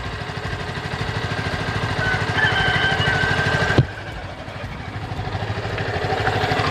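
A Yamaha Vixion motorcycle engine idles steadily after a water pump seal replacement, giving a continuous even rumble with a brief click partway through and no talking.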